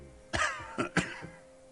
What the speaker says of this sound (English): He coughs once more, then puts his hand on his belly.